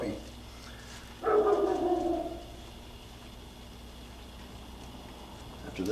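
A puppy lets out a single drawn-out bark or whining yelp, moderately close, then falls quiet over a low steady hum.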